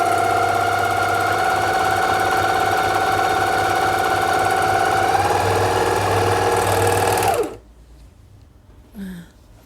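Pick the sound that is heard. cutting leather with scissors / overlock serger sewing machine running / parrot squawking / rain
overlock serger sewing machine running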